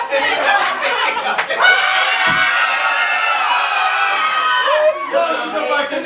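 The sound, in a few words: audience screaming on cue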